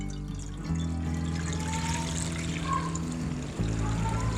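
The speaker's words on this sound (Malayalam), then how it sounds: "അപ്പോൾ നമ്മൾ ഇതിലേക്ക് ആവശ്യത്തിനുള്ള വെള്ളം ഒഴിക്കുക." Water poured into a pressure cooker lid to check its nozzle makes a steady close trickle and splash, which shifts in tone partway through and continues without talk.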